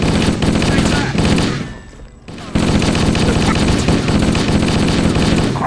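Dense, loud gunfire in Halo: Combat Evolved, continuous rapid bursts that drop away for a moment and then resume, with other weapon noise mixed in.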